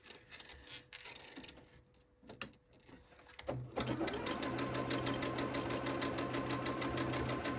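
A sewing machine stitches a pinwheel quilt top of scrappy Christmas fabric, cream on cream. Quiet handling and rustling come first, then a loud, steady motor whir with a fast needle chatter runs without a break to the end.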